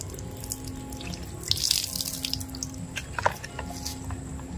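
Water runs from a tap in a steady soft stream, with brief louder splashes and drips partway through, recorded close by during work on a Honda XRM Motard FI 125 handlebar end.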